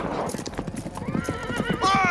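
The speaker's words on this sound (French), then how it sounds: "Les chevaux ont eu peur de quelque chose!" Startled horses clip-clop in a quick, uneven beat of hooves, then one gives a loud, close whinny at the end, with voices in the background.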